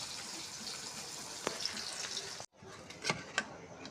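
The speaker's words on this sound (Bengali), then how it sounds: "একবারে সম্পূর্ণ মাছ দিব না অল্প অল্প করে ভেজে নিই" Pieces of fish sizzle and fry in a pan in a steady, close, hissing bed of sound, broken by a few sharp pops and a brief drop near the middle before the frying resumes.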